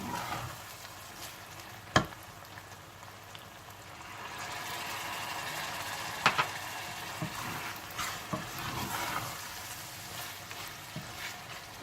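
Keema and peas frying in a pan: soft continuous sizzling with occasional stirring clatters and a sharp clink, quiet and close, with no talk.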